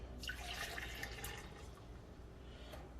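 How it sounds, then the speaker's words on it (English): Cooking juice left from braising pours into a measuring cup, a liquid gurgle and trickle that fades to faint drips, close and quiet. "take the juice that this was cooked in, Pour it into my measuring cup"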